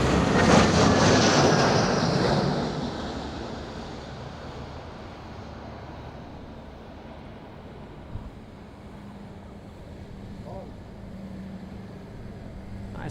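An EasyJet airliner lands on a windy day at Madeira Island Airport, its engine roar loud at first, then fading over several seconds into a steady, low rumble under gusting wind.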